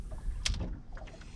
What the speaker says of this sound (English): Lots of boat activity lately too.